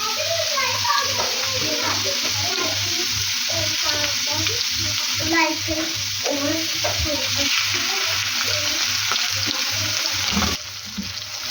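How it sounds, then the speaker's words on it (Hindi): Steady frying sizzle of spices and chopped ginger in hot ghee, crackling continuously with a rhythmic low thumping underneath, cut off abruptly near the end. "अब हम इसी घी के अंदर अपना तड़का रेडी करेंगे।"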